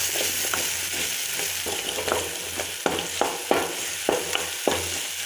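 Ginger sautéing in a pan for ginger thuvayal gives a steady, close sizzle with repeated sharp scrapes and taps of a spatula stirring, growing more frequent toward the end, with no voices.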